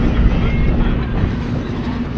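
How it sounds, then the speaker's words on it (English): Working trains at the North Carolina Transportation Museum produce a loud, close, continuous rumble with a steady low hum and no break. "you hear a bunch of active trains in the area"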